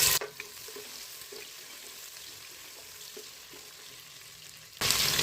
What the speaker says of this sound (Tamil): இப்போ ஒரு பெரிய வெங்காயம் கட் பண்ணி வச்சுருக்கேன், அதை சேர்த்துடலாம்.